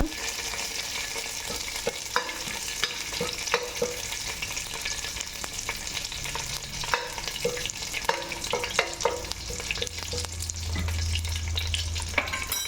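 Onions fry in ghee with curry leaves in a pan for kori rotti, giving a continuous crackling sizzle with frequent scraping and stirring clatter throughout, and a low hum appearing near the end.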